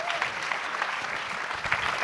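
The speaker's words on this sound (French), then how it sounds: "des applaudissements qui, je pense, sont vraiment extrêmement mérités" An audience at a film festival applauds a director and actor presenting his film Couleurs de l'incendie: dense, steady clapping from many hands fills the whole stretch at an even level, with no voices standing out.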